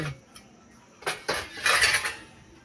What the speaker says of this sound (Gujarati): જમવાનું જમીને વાસણ ઘસવા આવી ગઈ છે